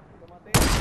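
Gunfire in the video game Fortnite: a sudden loud burst of rapid shots after a quiet moment, dense and close, continuing to the end.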